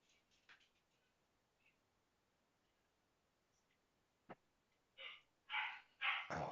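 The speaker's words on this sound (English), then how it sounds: "now the dog's going." A dog barks a few times at a distance, faint scattered yelps that build into louder barks near the end, in an otherwise quiet room.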